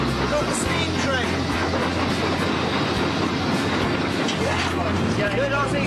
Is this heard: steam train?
yes